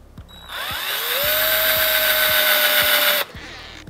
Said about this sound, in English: which I'm going to pre-drill a hole